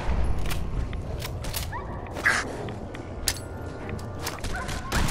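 Dog barks from a companion in the Fallout 4 video game, a few short yips spaced across a busy game soundscape, fairly faint under the ambient noise.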